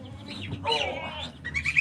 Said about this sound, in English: this is a little goose baby, little goshling